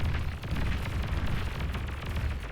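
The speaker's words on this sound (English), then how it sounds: "I think that mine was manually detonated there" A mine detonates in the Beyond All Reason strategy game with a low rumbling blast. The boom rolls on steadily for a couple of seconds, dense and fairly loud, with no talk.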